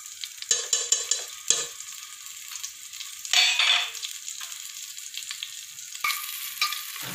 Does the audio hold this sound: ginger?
yes